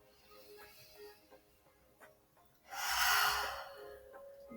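Deep, audible breathing in a yoga child's pose: a few soft, quiet inhales, then one long, loud breathy exhale lasting about two seconds near the end.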